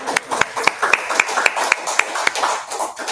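Scattered audience claps at a community talk about Gem City Market, a grocery store, sounding as a loose handful of sharp hand claps at irregular intervals, fairly close, over a faint room murmur.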